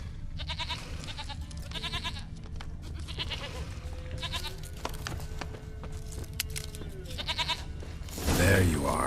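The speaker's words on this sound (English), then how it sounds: "Here, goat." A goat in The Witcher 3 bleats in several short wavering calls, spaced through the scene over game ambience, with a louder rustling burst near the end.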